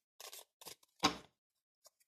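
Tarot cards drawn one by one from a deck in a quiet room: soft papery swishes and snaps in short bursts, two near-silent flicks trailing at the end.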